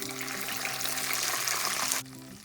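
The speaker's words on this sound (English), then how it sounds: "Add 1 teaspoon of methi seeds now. Fry it for 2 to 3 minutes" Fenugreek (methi) seeds fry in a pan with a steady, close sizzle and crackle, bright and continuous, then the sizzling abruptly drops to a quieter hiss at the end.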